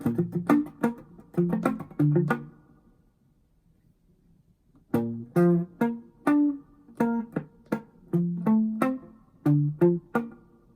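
Crisp staccato electric guitar notes, short percussive plucks in two bursts separated by a pause, each note cut off rather than ringing, played alone.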